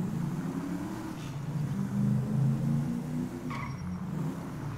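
A car drives and skids in Grand Theft Auto V, a steady low engine drone with tire screech rising in the middle and brief squeals near the end, close and continuous with no talking.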